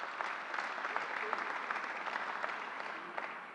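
A crowd at a community college event where the New York governor is making an announcement breaks into sustained applause, a soft, even wash of many hands clapping throughout.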